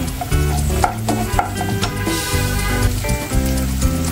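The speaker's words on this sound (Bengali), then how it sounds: "তাই চুলার জালটা কম করে মিডিয়াম করে কিছুক্ষণ ভেজে নেব, তাহলে খেতে ভালো লাগবে, ক্রাঞ্চি হবে।" Cashew nuts frying in a pan of oil on medium heat, a loud, dense, continuous sizzle with stirring scrapes close up.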